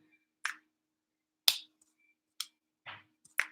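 Five sharp, isolated claps from a song, spaced unevenly about a second apart, crisp and bright, with a faint low hum underneath between them.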